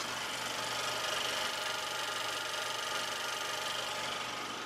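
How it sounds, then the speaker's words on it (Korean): Steady, even rumble of an engine idling nearby, with a faint rhythmic ticking and no voices throughout. "먼저 엔진 소음부터 체크해 보도록 하겠습니다"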